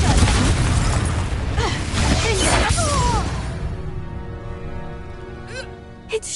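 Confringo fire spell in Hogwarts Legacy: a loud, close explosive burst with crashing, crackling debris, fading into a ringing tonal tail and then a small final pop.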